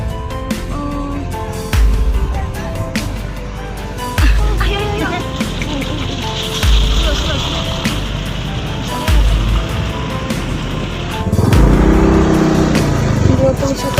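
Car revving hard on a rough unpaved village road, engine surging in repeated bursts with loud low thumps and rattles, close and loud, with people talking over it.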